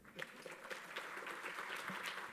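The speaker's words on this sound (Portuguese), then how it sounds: "peço uma salva de palmas a ele" An audience at a Telebrasil telecom conference applauds as a keynote speaker walks onto the stage, a dense, steady wash of many hands clapping that fills the hall at a constant level.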